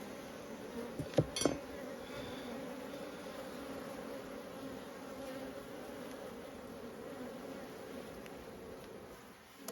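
Honeybees swarm around an open hive during a requeening inspection, a steady low drone of many wings close by, with a few brief knocks early on and no talking.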